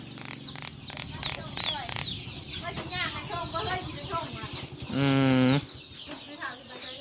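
Chickens and ducks on a farm cluck and squawk with a rooster-like call, while people talk throughout and a loud burst of crowing or squawking stands out near the end.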